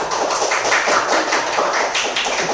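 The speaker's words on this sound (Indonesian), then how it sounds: "Beri tepuk tangan untuk kelompok 3." A classroom of sixth-grade students applauding a group during a maths lesson, steady dense clapping, close and continuous with no talking over it.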